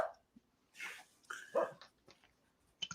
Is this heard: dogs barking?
yes